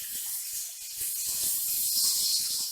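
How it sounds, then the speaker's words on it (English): Steam hissing off a pot or canner during home meat canning, a steady broad hiss that holds fairly loud and close for the whole stretch with no talk over it. "We're going to let that steam off, and then I'll show you the next step."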